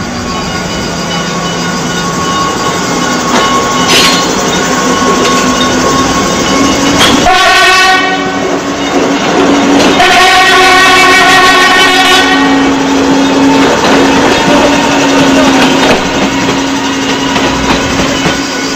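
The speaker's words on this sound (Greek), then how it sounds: "Σφύριξε επιτέλους το τρένο." Train on the Nafplio line sounding its horn in long loud blasts, then rumbling and clattering as it departs, with a steady roar of engine and wheels throughout.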